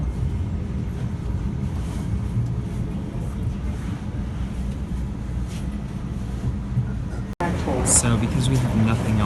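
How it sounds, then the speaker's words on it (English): Steady low rumble and rolling noise of a Salt Lake City light rail train in motion, with a brief dropout near the end followed by brighter squeals and clatter. "we're just kind of like aimlessly riding the trains, the transit system around Salt Lake City"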